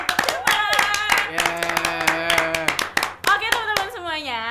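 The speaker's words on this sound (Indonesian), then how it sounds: "boleh tepuk tangan untuk Shermat" Studio clapping for a Friday chat show episode about best friends, several crisp claps rising over speech and a backing musical tone, with talking and a sung or drawn-out voice near the end.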